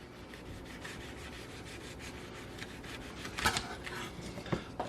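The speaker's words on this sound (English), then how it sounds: "Put your knife against the deli container and slice it." Tomatoes being sliced with a knife held flat against a deli container lid, soft rubbing and scraping strokes with a couple of sharper cuts near the end, fairly quiet.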